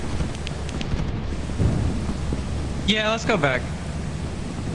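Thunder in Lethal Company: a steady rain-like roar with a low distant rumble swelling underneath, while a person talks briefly over it.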